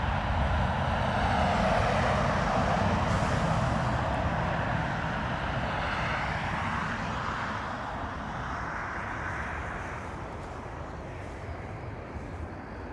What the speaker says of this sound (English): That was Air Canada from Toronto